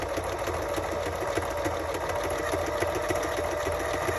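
A sewing machine stitching a journal cover made from scrapbook papers, a steady rapid mechanical whir and tapping that runs evenly and close without a break.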